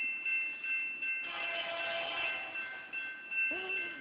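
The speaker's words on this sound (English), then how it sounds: "Here comes the train." A train passing at a distance, a sustained horn or whistle tone held steady over a low rumble and swelling through the middle, with a brief high voice near the end.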